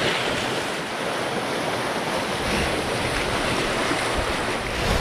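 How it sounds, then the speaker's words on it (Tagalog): Heavy sea surf roars continuously, loud and close, with constant wind buffeting the microphone throughout. "Ayan, grabe ang alon na. Galit na galit."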